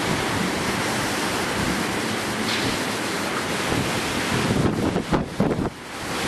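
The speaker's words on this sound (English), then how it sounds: "the wind snaps off the trees and they become loose items" Strong wind from Cyclone Yasi roars as a steady, loud broadband rush that buffets the microphone, with gusts and rattling bursts near the end and no voices.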